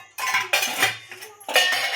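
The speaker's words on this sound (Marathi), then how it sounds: "आता भांडी खडीला लावून घेतली." Freshly washed steel dishes and pots are set onto a draining rack in a home kitchen, a few separate bursts of clattering and clinking metal, close and fairly loud.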